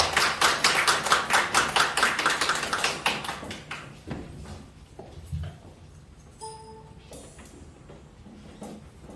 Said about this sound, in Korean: 우리 집사님 나올 때 큰 박수로 환영하도록 하겠습니다